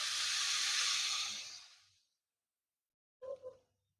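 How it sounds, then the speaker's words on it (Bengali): Water measured out by the bowlful pours into a pot of broken rice (khud) in a village kitchen, a steady loud splashing rush lasting about two seconds, fading out, then a brief clatter after a pause. "এখন আমি এই বাটির মেপে জল দিয়ে দেব।"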